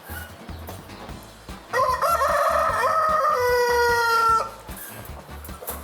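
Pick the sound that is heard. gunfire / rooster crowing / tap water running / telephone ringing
rooster crowing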